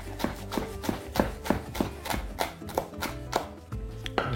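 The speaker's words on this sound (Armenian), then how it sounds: "Մանր կտրատում ավելացնում ենք" A knife finely chops tender fresh mint stems on a cutting board for a protein salad. About a dozen crisp, evenly paced chops sound close and clear, with no talking.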